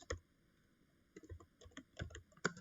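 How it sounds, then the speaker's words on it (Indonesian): Keystrokes on a computer keyboard while entering a switch configuration command, a sparse run of quiet clicks with small clusters and pauses, heard alone with no talk. "langsung saja ketikkan interface"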